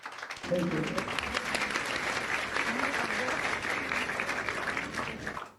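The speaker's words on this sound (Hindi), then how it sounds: "बजाएं तालियां अपने लिए।" A church congregation bursts into loud, sustained applause and cheering during an Easter sermon, filling the room for several seconds, with a voice briefly audible over it at the start.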